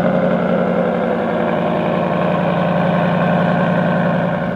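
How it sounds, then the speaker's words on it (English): A warmed-up 2021 Ford Mustang GT V8 idles steadily, a deep, even rumble heard up close with no change in pitch throughout. "Okay, so the vehicles are warmed up, and we are ready for takeoff."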